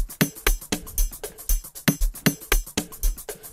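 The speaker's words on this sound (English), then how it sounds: "then I have a loop here, Amapiano loop. Drum loop, which sounds like this" Amapiano drum loop programmed in FL Studio, with punchy kicks and bright crisp percussion hits in a steady syncopated groove, loud and close with no talk.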